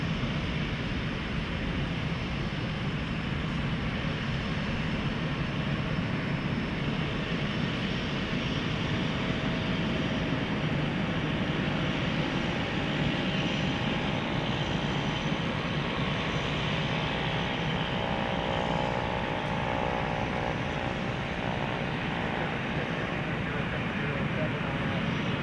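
UPS jet taxiing and taking off from runway 18 left at DFW Airport at night, a steady loud roar of jet engines holding throughout at a distance, with a voice talking over it.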